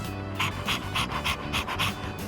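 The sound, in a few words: dog panting, from Persona 3 Reload video game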